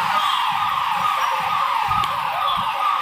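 An ambulance siren wails continuously in street traffic at a crowded fair in Jodhpur, its steady sweeping tone loud and fairly near with road rumble beneath.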